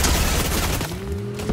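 Gunfire in the video game Fortnite rattles out in a rapid, loud burst of shots that ends in a booming tail with a ringing, falling tone.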